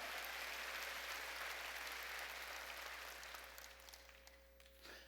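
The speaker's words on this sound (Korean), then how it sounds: "박수로 하나님께 줘." A church congregation claps for God during a Korean sermon, a dense, steady wash of applause that holds strong, then thins and fades toward the end, with a few scattered claps lingering.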